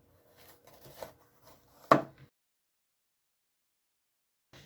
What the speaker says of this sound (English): it can be coarsely chopped because we are going to just cook it all down and blend it